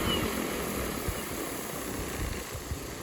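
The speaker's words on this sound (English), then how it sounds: "Sophie, you're not afraid of the big helicopter?" A Synergy 516 RC helicopter flies nearby, its rotor giving a steady buzzing whir with soft rhythmic chopping beneath, moderately loud and continuous with faint thumps mixed in.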